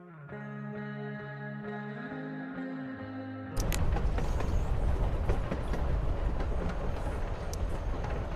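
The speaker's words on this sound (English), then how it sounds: "You're on a freaking train with Rachel freaking Amber" In the video game Life Is Strange: Before The Storm, a soft musical passage gives way to the loud, steady rumble and rattle of a moving train, carriage clatter and wind noise continuing without a break and no talking.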